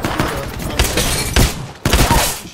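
Bursts of video game gunfire crackle in dense, overlapping volleys, with heavier thumps at intervals and brief gaps between the bursts, loud and close.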